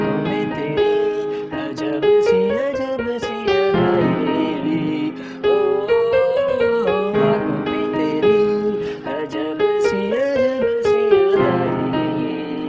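Keyboard playing the pre-chorus of a Bollywood song from Om Shanti Om, with a steady melodic line over chords, close and clear, continuous throughout without any talking.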